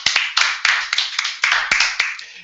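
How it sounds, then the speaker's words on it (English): A small group claps for the coaches at a Scratch coding challenge event: sparse, uneven hand claps close by, with a few distinct claps in loose rhythm that trail off. "Round of applause for the Scratch coaches."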